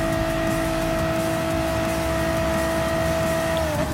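A Ford Mustang race car in Gran Turismo Sport holds sixth gear, its engine a loud, steady high-revving drone that dips slightly just before the end.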